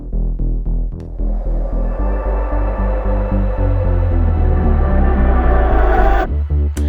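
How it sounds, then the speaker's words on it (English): In a song's build, a reverse vocal swells alongside a rising riser and a wind effect over a thick, pulsing bass bed, growing louder before an abrupt cut into the next section. "Like there's this reverse vocal happening at the same time."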